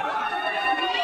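Chatter from a packed crowd at a railway station fills the air as a close, continuous babble of many overlapping voices.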